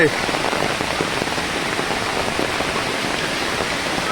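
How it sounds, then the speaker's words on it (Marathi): Heavy monsoon water rushes through swollen streams and rivers in the Konkan countryside, a steady broadband roar that fills the scene without letup, close and loud like pouring rain or a torrent. "इकडे पाणीच पाणी झालंय सगळं नद्या नायांना एकदम पूर"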